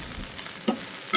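Potatoes and okra sauté in a pan with a continuous close sizzle and brief scraping stirs, no voices.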